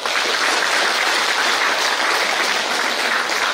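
A crowd at a Teacher's Day celebration claps together, a dense, even wash of applause holding at full strength from start to finish.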